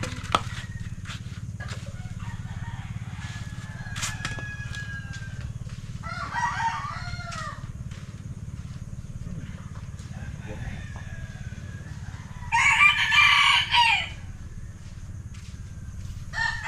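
A rooster crows twice in the distance, once faintly and later louder and nearer, over a steady low hum with scattered birdsong.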